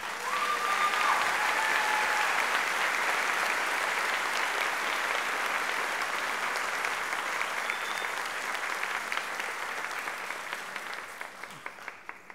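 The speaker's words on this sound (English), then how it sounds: "a big round of applause" Sustained applause from an audience at a school district convocation as a dance team takes a bow, a dense steady clapping that holds throughout and thins slightly toward the end.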